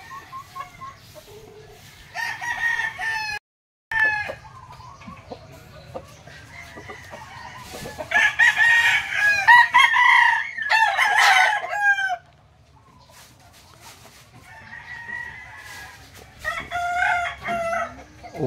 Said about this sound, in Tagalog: Walang tigil sa tilaok mga Geeks hanggang ngayon.